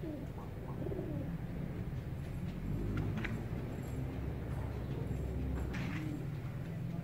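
Pigeons cooing in a loft, soft repeated coos over a constant low background rumble, fairly faint and steady throughout.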